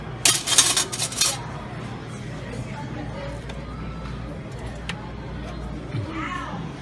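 Two metal serving spoons clink sharply against buffet dishes in a quick cluster of bright taps near the start, then fade into restaurant hubbub with a voice talking.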